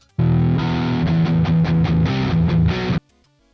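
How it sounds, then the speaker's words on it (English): An electric guitar played through a Quad Cortex audio interface with a distorted amp tone, a loud run of picked notes and chords for nearly three seconds before stopping abruptly into near silence. "you should be hearing the guitar now"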